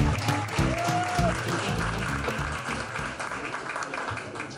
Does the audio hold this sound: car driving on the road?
no